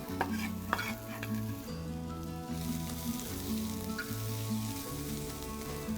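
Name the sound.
garlic and onion frying in a pan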